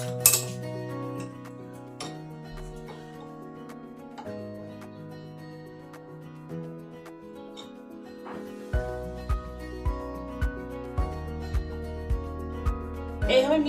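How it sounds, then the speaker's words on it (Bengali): A spoon clinks against a bowl while mixing a spice paste of cumin powder and salt for oil-free fried brinjal. The light, rhythmic clinks come in a quick series late in the clip beneath background music. "এবার এটাকে ভালো করে মিশ্রণটা করে নেব যাতে সব একসঙ্গে ঢুকে।"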